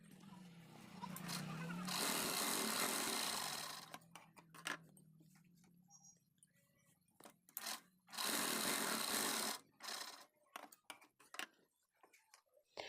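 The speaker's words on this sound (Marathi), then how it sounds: "मी इथे आता मागच्या साईडला आपले टक्स टाकून घेते." A sewing machine stitches tucks on the back of a blouse, running in two loud close bursts of rapid whirring, separated by quieter ticks, clicks and handling of the fabric.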